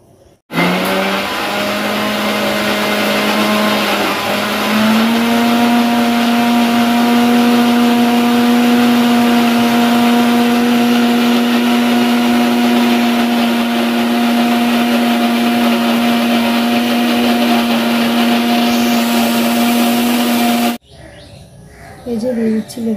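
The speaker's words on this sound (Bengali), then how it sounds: "দিয়ে এখন মিক্সি করে নেব" A mixer grinder whirs as it blends hibiscus leaves, hibiscus flowers and aloe vera pieces. The motor hum is loud and steady, rising slightly in pitch after a few seconds, then cuts off abruptly near the end.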